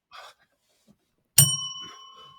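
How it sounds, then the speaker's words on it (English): Notification bell ding sound effect: one bright metallic ding rings out clearly and decays with a lingering tone, after a brief faint sound and near silence. "Ring that fucking bell"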